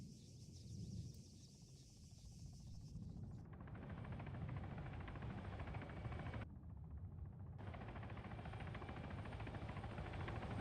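A Wildcat helicopter in a video game drones with a steady rotor and engine hum that holds throughout, the tone shifting abruptly as the in-game view changes, with no talk over it.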